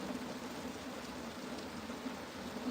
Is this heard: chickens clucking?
no